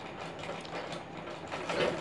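A sewing machine stitches the belt of a katori blouse, a quiet, close mechanical whirring and clicking that runs on without a break and grows slightly louder near the end.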